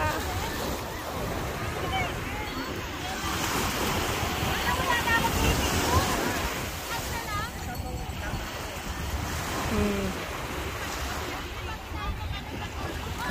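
Sea waves wash onto a beach in a steady broadband roar with gentle surges throughout, mixed with wind noise and people talking nearby.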